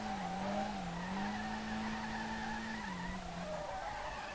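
In the SLRR racing game, a car drifts at full throttle in second gear, tires screeching in a long wavering squeal over a steady engine roar, with no talk.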